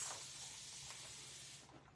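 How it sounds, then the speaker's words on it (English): An aerosol can sprays onto fall decor pieces in one steady, close hiss lasting almost two seconds before it tapers off, with no talking. "let me spray all of this."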